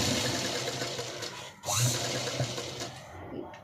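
Sewing machine running continuously while stitching the rounded edges of a blouse hanging, a close, steady rapid whir with one brief pause before it picks up again, no talking.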